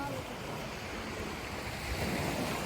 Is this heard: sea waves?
yes